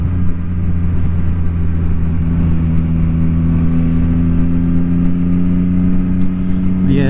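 A motorcycle engine runs loud and close in traffic, a steady low drone with mild rises in pitch as the bike is pushed along, heard through a helmet intercom.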